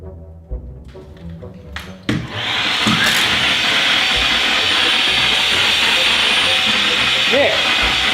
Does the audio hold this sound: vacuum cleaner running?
yes